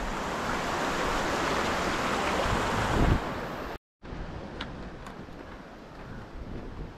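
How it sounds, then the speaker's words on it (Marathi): A rocky stream that runs with water all year flows in a steady, broad rush outdoors, continuous and fairly loud, with a brief dropout just before the midpoint. "इकडं बघा 12ही महिने पाणी सुरू असतं ह्या ओढ्यामध्ये"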